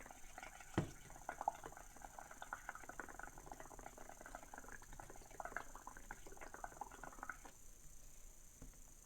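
Soap bubbles pop on paper in a children's bubble-art activity, a soft continuous fizzing crackle of tiny pops, close and faint, with one louder tap near the start.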